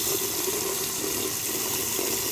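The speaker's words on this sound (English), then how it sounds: "Faucet, shoot right into the drain." A faucet runs in a steady, loud stream aimed straight into the drain, a continuous rushing splash from start to finish with no voices.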